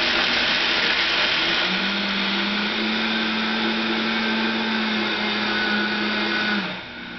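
A Vita-Mix variable-speed blender grinds dehydrated, crispy pumpkin seeds on a slow setting, a steady loud whirring motor drone with a gritty rattling texture that holds level for several seconds before spinning down at the end.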